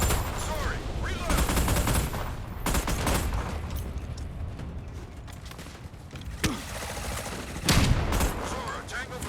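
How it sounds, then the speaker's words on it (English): Shotgun firing in the Battleship video game, a series of heavy blasts in bursts with sharp loud shots near the end, over continuous game noise and rumble, with someone talking at times. "I really am surprised at how okay the shotgun is."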